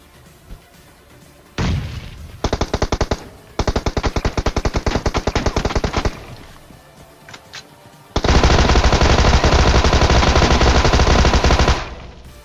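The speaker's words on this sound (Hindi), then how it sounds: "उसे मारना था भाई मुझे टॉमी गन से, क्योंकि टॉमी गन भी यूज़ करनी है।" A Tommy gun fires in the video game PUBG, loud rapid automatic bursts, two short ones and then two longer sustained strings of shots, each stopping abruptly, with no one speaking.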